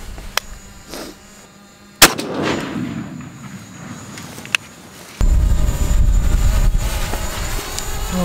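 A shotgun with a modified choke fires a 3-inch steel 2 load: one sharp, loud blast with a ringing tail, a smaller crack a few seconds later, then a steady rushing outdoor noise.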